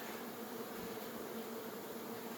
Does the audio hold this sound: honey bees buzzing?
yes